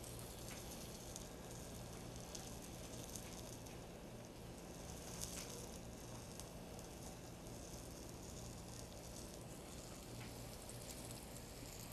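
Chicken breast dusted in seasoned flour sautéing in a pan gives a steady, faint sizzle with soft crackle, constant throughout with no voices.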